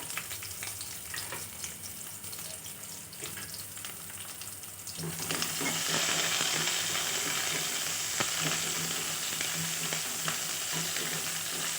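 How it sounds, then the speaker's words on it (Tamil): Shallots fry in a pan for banana flower curry. A quieter sizzle jumps to a loud, dense crackling partway through, then carries on steadily with occasional scraping stirs close by. "நல்லா வதங்கட்டும் வெங்காயம்"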